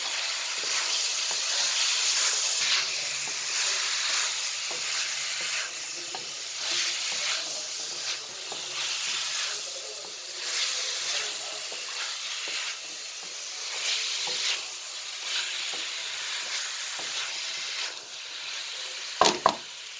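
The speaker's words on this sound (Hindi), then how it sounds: "इन दोनों चीज़ों को हमने अच्छी तरह से मिक्स कर लिया है" Boiled potatoes and cauliflower are stirred in sizzling masala, giving a steady close frying hiss broken by rhythmic scraping stirs of a spoon in the pan, with a couple of sharp clinks at the end.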